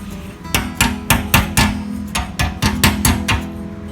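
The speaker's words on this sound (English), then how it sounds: "Grab this little hammer here." A small hammer strikes repeatedly in quick, slightly uneven taps, about a dozen blows, sharp and close with no talking, while building a burn-barrel barbecue.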